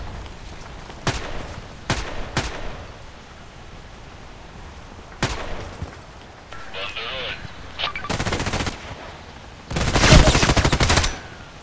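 A Sig Sauer MPX submachine gun fires in the Contract Wars video game: several short bursts and single shots spaced across the clip, ending in a longer, louder burst, with no talk.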